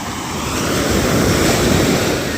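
Heavy sea surf pounds a beach during strong monsoon winds, a dense, loud, continuous roar of breaking waves mixed with wind buffeting on the microphone.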